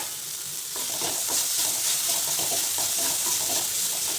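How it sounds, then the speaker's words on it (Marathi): Garlic paste being sautéed with cooked tomato in a pan gives a steady bright sizzle with soft stirring scrapes, continuous and close for a few seconds, no talking. "थोडंसं परतू द्यायचं."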